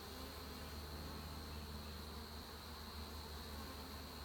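Honey bees hum inside an open beehive, a small colony that is not strong, in a steady high-pitched drone with no breaks. The buzz is faint and alone.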